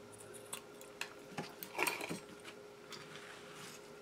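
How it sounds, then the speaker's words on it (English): Scissors snip the end off a decoration on an altered ruby red slipper shoe, giving a few faint, quiet clicks and one brief cluster of snipping, with no talk. "I'm going to cut the end off."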